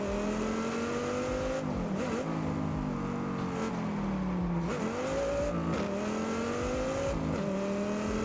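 A racing car in TDU: Solar Crown brakes and throws itself through twisty corners, its engine note repeatedly dropping and climbing again as it revs between bends, loud, steady and close without any voices.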